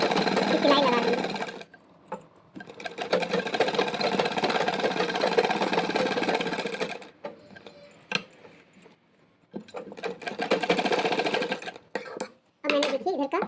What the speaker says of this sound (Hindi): इसी तरह हम लेस की सिलाई लगा देंगे।